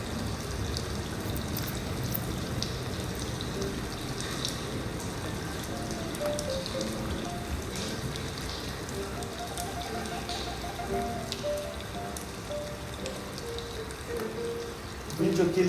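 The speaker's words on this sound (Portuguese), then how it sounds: "mas vocês ouvem um som de chuva?" Steady rain falls outdoors at night, a dense continuous patter and hiss that stays even throughout with no voices over it, swelling slightly louder at the very end.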